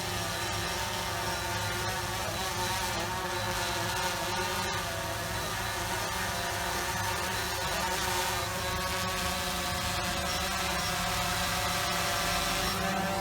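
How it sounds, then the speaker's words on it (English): A drone hovers and descends to land, its steady high-pitched buzzing drone of rotors holding constant throughout with no pauses. "now we're going to bring the drone down"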